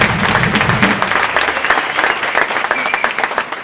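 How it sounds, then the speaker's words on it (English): Audience at a high school jazz concert applauds a guest conductor, a dense burst of clapping that stays loud and steady, slightly thinning toward the end. "Nice round of applause"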